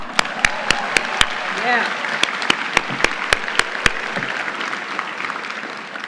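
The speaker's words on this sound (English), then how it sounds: "Give yourselves a round of applause." Graduates at a 2019 College of Charleston commencement ceremony break into applause, a broad burst of crowd clapping with a few sharp louder claps and a brief voice heard over it.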